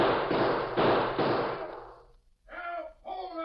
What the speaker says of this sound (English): Next minute, a lot of gunfire broke loose inside.